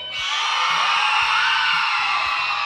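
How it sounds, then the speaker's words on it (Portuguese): A children's church congregation yells in a loud, continuous group shout that holds steady for nearly three seconds, with whoops and screams blended into the roar. "Quem tá feliz com Jesus, dá um grito aí."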